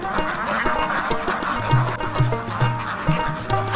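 Ducks on a duck farm quack loudly and close, a rapid run of repeated calls over a busy background of more flock noise.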